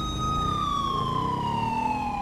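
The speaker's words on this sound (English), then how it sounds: "let's turn on our siren" Police motorcycle siren in GTA 5 wailing steadily and loudly throughout, a continuous sweeping tone sliding gradually downward over a low engine rumble, with no talking.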